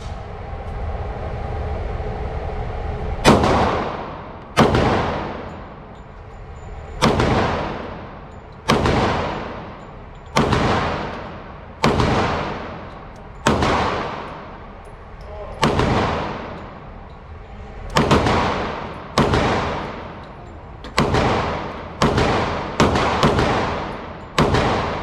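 A Smith & Wesson M&P 2.0 10mm pistol is fired down range, giving about fifteen loud, sharp shots at a steady, unhurried pace, each with a booming echo that decays before the next.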